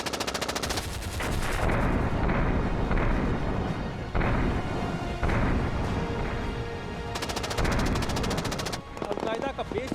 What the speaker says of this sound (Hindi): सीधा RPG फायर किया गया और अब यहाँ से फायर किया जा रहा है उस पोजीशन पे